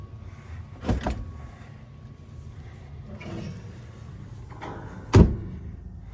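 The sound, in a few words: sturdy door being closed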